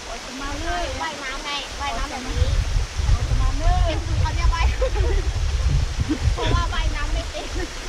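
Waterfall near a village at Keng Tung, a steady broadband rush of falling water that grows heavier partway through, with people talking over it.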